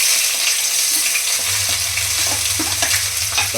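Onion drops into hot oil and fries with a loud, dense, continuous sizzle, close by, with faint stirring taps underneath and no talk.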